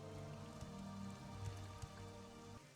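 Steady rain falls continuously in Morrowind, a soft even patter over a low game hum with no voices.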